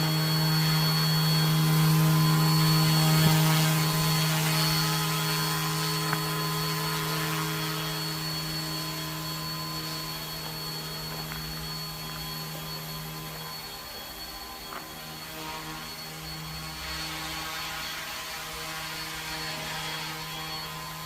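An Amewi Bell 222 Airwolf Pro RC helicopter flies indoors with a loud, steady rotor and motor whine holding a sustained tone that shifts pitch as it hovers, continuous and close with no voices.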